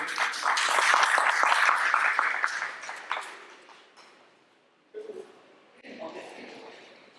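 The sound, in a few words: audience applause welcoming a speaker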